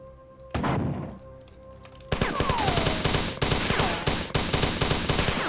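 Rapid automatic gunfire blasts in the sci-fi shooter game Marathon, a short opening burst followed by a long, loud stretch of repeated shots in quick rhythm with heavy thuds, and no talking.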